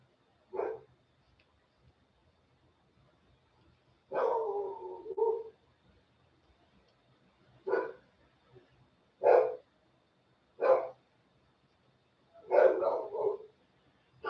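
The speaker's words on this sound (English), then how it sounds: "You can hear my dog, well, my daughter's dog barking." A dog barks in separate bursts of single and double barks with quiet gaps between them, fairly close and clear, and no one talks over it.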